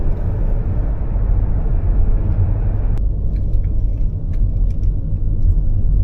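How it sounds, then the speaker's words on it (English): A Toyota Innova HyCross climbs the mountain hairpin bends of the Charmadi Ghats in the Western Ghats. A steady, close cabin rumble of engine and road noise runs throughout, with the higher hiss dropping away abruptly partway through. "So we're now driving through the Charmadi Ghats."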